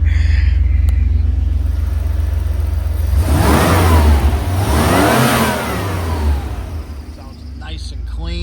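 A 1987 Chevrolet IROC 5.7-litre V8 engine idles low, then revs up twice in strong rising surges before settling back toward idle, loud and close.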